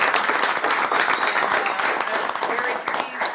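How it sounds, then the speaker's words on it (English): Audience applause at a transit visioning workshop presentation, dense even clapping filling the room from start to finish, with some voices mixed in. "Let's give Jarrett Walker a round of applause."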